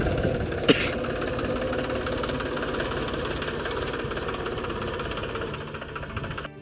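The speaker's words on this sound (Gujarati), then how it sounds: "હવે આ ટ્રેક્ટરથી આવી રીતે પરો કરે જોઈ લ્યો" A tractor works a groundnut field in Gujarat, its engine droning steadily with a knocking rumble, close and continuous, after one brief sharp clank near the start.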